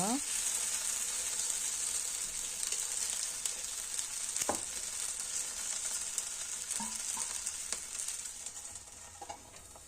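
Suji batter sizzling steadily as it fries in a pan, a continuous bright hiss with a few faint clinks and scrapes, close and even throughout.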